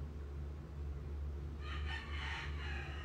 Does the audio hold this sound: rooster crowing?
yes